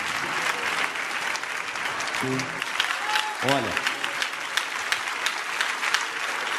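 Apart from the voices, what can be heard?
church congregation applauding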